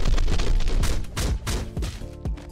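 Rapid fury barrage combo from a Roblox Sorcerer Battlegrounds fight: a dense flurry of punchy booming hits and thuds, loud and close, ending in a few heavier separate impacts.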